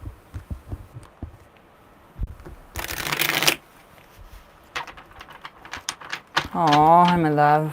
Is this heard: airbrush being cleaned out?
no